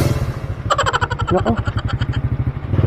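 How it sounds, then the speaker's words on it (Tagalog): A Honda Wave 100 motorcycle engine runs steadily with a fast, even low putter throughout, close and fairly loud, briefly joined by a short spoken word midway. "dinatnan ko na tong motor na to, pero napakaayos pa rin ang makina niya. Honda Wave 100."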